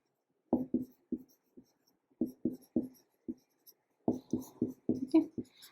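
Sharp, close taps and squeaks of a marker or chalk writing a chemical formula on a board, arriving in quick bursts of short strokes separated by brief pauses.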